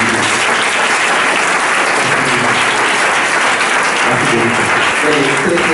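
A church congregation applauds loudly and continuously, a dense wash of clapping with a few voices mixed into the crowd.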